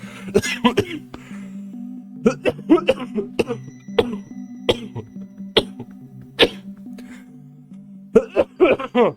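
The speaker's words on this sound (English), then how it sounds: "the reason I was coughing" Repeated coughing fits and throat clearing, close and loud, in short bursts spread through the clip, with brief vocal sounds between and a steady low hum underneath.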